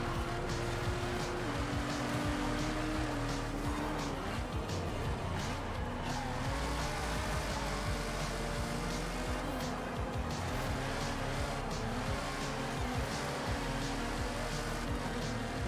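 A car with over 600 horsepower drives in Forza Horizon 5, its engine droning loud and steady throughout, with tire noise and sliding mixed in.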